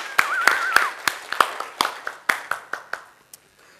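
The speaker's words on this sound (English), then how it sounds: "Big round of applause for our man here." A stage audience gives a brief round of applause for a volunteer: a short run of sharp, separate hand claps, close and fairly loud, that thin out and fade within a few seconds.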